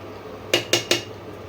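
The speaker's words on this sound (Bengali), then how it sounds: "এবারে আমি 1 চামচ ঘি দেবো" A spoonful of ghee goes into a pot of prawn malai curry, marked by three quick, bright metallic clinks of the spoon against the pot, close and alone.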